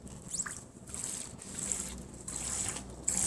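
Water squirting in short spurts from a squeezed Penguins of Madagascar toy, a soft, hissing trickle that comes and goes several times at close range with no talking.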